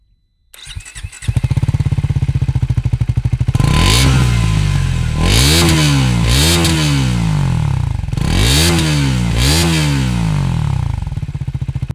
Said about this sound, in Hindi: आपको इसका एग्जॉस्ट नोट सुनाता हूँ